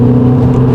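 A 2024 Mini Cooper S petrol engine hums steadily from inside the car while driving, a loud, continuous low drone with firm harmonic tones and no speech over it.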